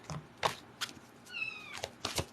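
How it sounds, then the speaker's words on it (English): A female cat meowing indoors, a few short meows and one longer drawn-out call, fairly close and moderate in loudness with soft rustling between. "She's meowing a lot."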